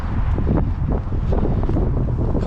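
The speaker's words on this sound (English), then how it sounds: "it's still so windy" Strong wind blows across a lake at a carp fishery, buffeting the microphone with a steady, loud roar and gusty surges, no voices present.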